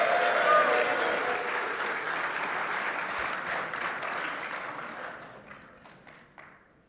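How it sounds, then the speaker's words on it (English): Audience applause fills a panel session at an agricultural AGM, steady sustained clapping from a crowd that gradually fades out over several seconds. "I know that was all for Brenna, the applause there."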